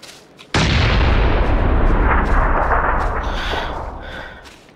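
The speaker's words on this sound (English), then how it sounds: "they threw a nade." Grenade blast in a video game: a single sudden, loud boom hits after a quiet moment, then rumbles and slowly fades over a few seconds.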